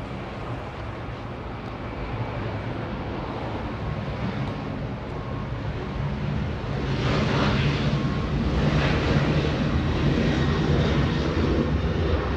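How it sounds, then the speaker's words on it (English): A Delta Boeing 737-900 jet takes off at Los Angeles International Airport, a steady loud engine rumble that swells and grows harsher partway through, with wind buffeting on the microphone. "Delta 2481 flying to New Orleans, a 737-900."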